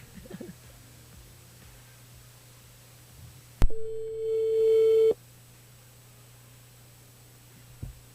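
One ring tone sounds on a telephone line while a radio show calls a listener: a single steady electronic tone lasting about a second and a half over faint line hum, then quiet.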